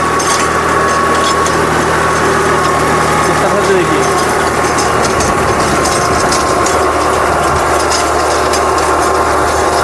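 A tractor fitted with Bullet motorcycle wheels works a sugarcane field during a live tilling demo, its engine a loud, steady drone with continuous mechanical clatter while someone talks over it throughout.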